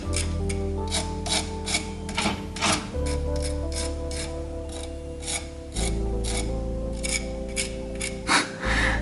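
Crispy fried chicken being bitten and chewed close up, a run of repeated crunchy crackles and rasping bites, loud and steady with a low hum beneath.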